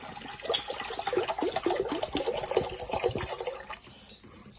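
About one liter of water splashing and running steadily into a container for pizza dough, a continuous gurgling pour lasting several seconds, close by, with no talking.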